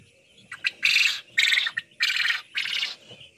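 Quail birds chirping up close, a few short sharp calls followed by four bright, raspy bursts in quick succession against a quiet background.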